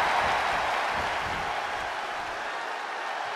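A wrestling arena crowd at a main event roars in a dense, steady wash of cheering and applause that fades slightly toward the end.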